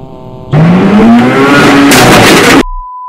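Race car engine in a driving video game set in Japan, loud and close, revving up with a steadily rising pitch for about two seconds, then cutting off abruptly into a brief steady tone.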